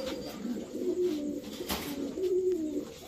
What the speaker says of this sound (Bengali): কোয়ালিটি দেখেন কবুতরগুলা